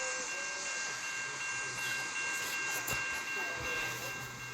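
A long BNSF freight train with distributed power units rolls past close by, with a steady hiss of wheels and rail noise, faint tonal squeals and occasional clanks throughout.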